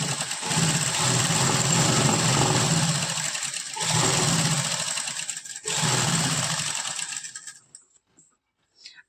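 An electric sewing machine stitches a suit in long steady humming runs, broken by two brief pauses before it winds down and stops.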